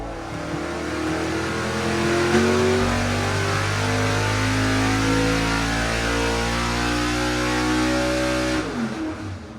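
A 434 race engine on a dyno pull with extreme ignition timing, revving hard and climbing steadily in pitch for several seconds, loud and close, then cutting off abruptly near the end.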